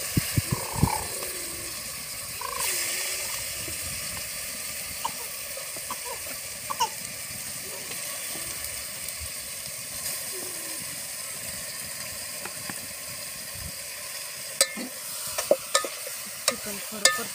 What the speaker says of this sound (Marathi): चिकन थोडं परतून घेते.